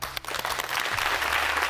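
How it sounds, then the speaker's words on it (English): Audience at a youth leadership debate show breaks into a short, dense round of applause that builds and holds, with a low background hum underneath. "Leaders, a round of applause for that debate."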